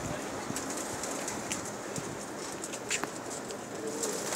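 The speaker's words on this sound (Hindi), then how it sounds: "माशाल्लाह बहुत अच्छे कबूतर हैं इनके" A dense flock of high-flyer pigeons coos continuously at moderate distance, with light rustling and occasional higher calls over a constant hiss.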